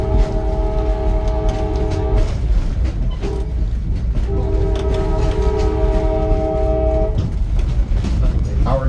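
A train rolls along Portland's East End Beach in Maine, its steady rumble and wheel clatter continuous throughout, with long sustained horn blasts sounding twice, the second lasting several seconds.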